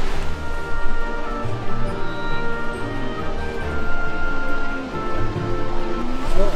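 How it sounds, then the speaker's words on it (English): A waterfall on a forested mountain slope in Oaxaca's Mixe region produces a steady, full rush of water that holds loud and even throughout. "Listen, you can hear the sound of the waterfall."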